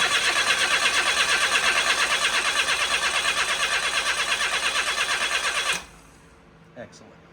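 Engine of a Cappuccino cranking over without starting during a compression test, a loud rhythmic chugging of the starter held for several seconds, then stopping abruptly, followed by near silence and a single faint knock.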